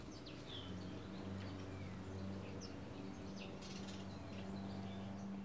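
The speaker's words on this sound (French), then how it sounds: "il y a des oiseaux à fond qui chantent et tout" Birds chirp and call outdoors on a sunny day, with scattered short twitters over a steady low drone from a large lawnmower running nearby.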